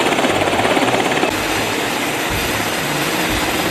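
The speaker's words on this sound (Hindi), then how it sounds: "ये हेलीकॉप्टर ईरानी जहाज के ऊपर मंडराने लगता है" A helicopter hovers over an Iranian ship before landing on its deck, a loud steady rotor and engine roar that fills the whole stretch with a dense, continuous drone.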